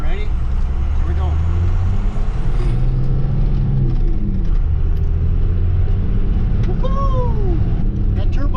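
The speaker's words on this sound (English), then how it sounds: "That turbo's got a little bit of a whine to it" A 12-valve Cummins diesel in a GMC truck with a Borg Warner K27 turbo pulls away, a heavy engine rumble carrying a thin rising turbo whine near the end, close and loud, with voices of people riding along.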